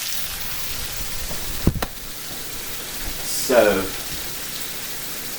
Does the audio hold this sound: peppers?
yes